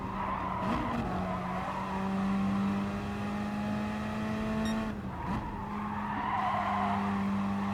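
A Gr.4 race car in Gran Turismo Sport at Brands Hatch slides on fresh tires with a sustained tire skid over a steady engine drone, briefly dipping midway before the sliding tone resumes at moderate level.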